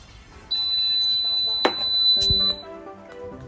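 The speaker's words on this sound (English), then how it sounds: "You wanna press it until it beeps." An Instant Pot Pro electric pressure cooker gives a single sustained, high electronic beep of about two seconds as its button is held down, with a soft thunk partway through, close and clear.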